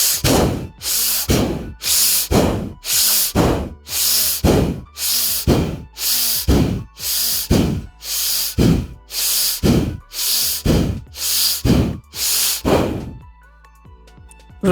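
Rapid, forceful yogic breathing with active inhales and exhales, a long even run of about seventeen sharp, hissing breaths close to the mic, ending abruptly in near silence.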